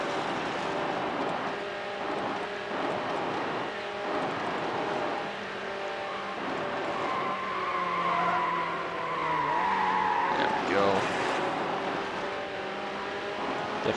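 Engine roar and tire skids from a car in the Need For Speed Hot Pursuit 2 racing game, a steady loud drone with shifting pitch and a rising squeal of skidding tires near the end, no talking.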